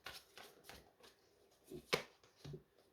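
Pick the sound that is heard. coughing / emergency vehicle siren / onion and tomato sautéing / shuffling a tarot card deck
shuffling a tarot card deck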